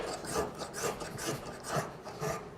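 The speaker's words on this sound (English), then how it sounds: "I'm gonna use the spoke shape, and I'll skew it a little bit." A spokeshave cuts wood at a joint in about five quick rhythmic rasping strokes, close and fairly quiet, with no talk.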